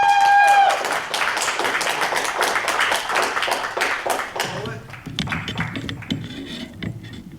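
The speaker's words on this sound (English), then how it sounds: "manual applause for Fifi!" An audience at a slam poetry event claps for a poet, a busy burst of many hands that thins and fades toward the end as other sounds creep in.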